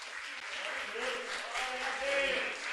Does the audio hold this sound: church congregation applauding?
yes